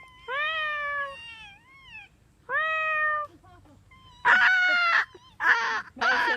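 A voices cat-like, wavering mewing calls imitating a sound lemurs love, in several separate bursts with short pauses, the later ones louder, harsher and more nasal.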